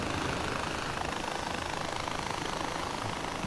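Constant whirring drone of a helicopter rotor and engine in the video game Far Cry 4, loud and unbroken, with no voices.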